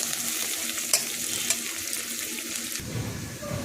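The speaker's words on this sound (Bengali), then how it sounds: "পেঁয়াজটাকে একটু লাল লাল করে ভাজতে হবে।" Onions and green chillies fry in a pan with a steady close sizzle, a couple of sharp clinks and a shift in the frying texture near the end.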